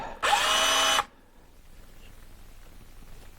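A Makita LXT 17mm cordless hammer drill whirs loudly for under a second, then stops abruptly, leaving quiet room tone.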